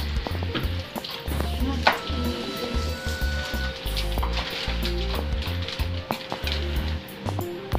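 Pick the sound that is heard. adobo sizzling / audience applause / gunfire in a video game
adobo sizzling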